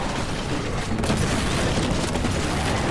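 Explosions rip through combat in Warhammer 40k: Boltgun, a continuous loud barrage of booms and rapid gunfire-like blasts with no letup.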